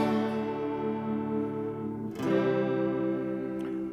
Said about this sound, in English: what it does is it gives you a different kind of chorus.